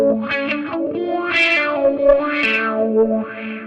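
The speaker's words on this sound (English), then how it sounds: "I put it after the reverb. I'm wahing out the reverb." A wah pedal sits after the reverb on an Axe FX guitar processor, sweeping a heavily processed, distorted guitar with a sustained reverb wash. Vowel-like filter sweeps rise and fall steadily through the tail, loud and alone.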